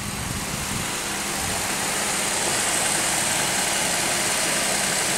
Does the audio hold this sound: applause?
no